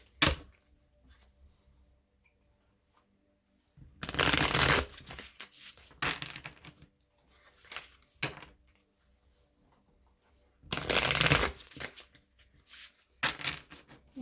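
Light Seers Tarot cards being shuffled in three loud bursts of riffling, with quiet pauses between them and no talking.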